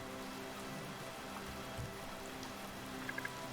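Steady rain falls on surfaces in the video game Patron, a continuous wash of drops that holds an even level throughout, with a few faint tinkling accents near the end.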